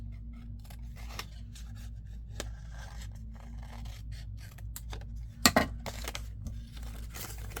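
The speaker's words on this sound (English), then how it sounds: "Let me just try cutting with my scissors." Quiet, close snips of scissors cutting paper, a few soft cuts spread out with one sharper burst of snipping, over a low background hum.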